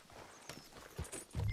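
Horse hooves clip-clop in Red Dead Redemption 2, a few soft, distant hoof strikes under low ambient sound before a louder thump at the end.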